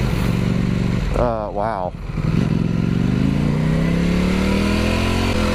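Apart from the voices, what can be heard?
Ducati Panigale V4 motorcycle engine accelerating while riding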